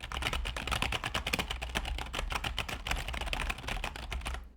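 Rapid, dense clacking of a computer keyboard played close to a microphone during a rhythm game, continuous fast keystrokes throughout with no talking.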